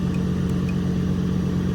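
An EnPak unit engine on a 2015 Ford F550 service truck runs with a steady, loud mechanical hum and drone, close by with no talking.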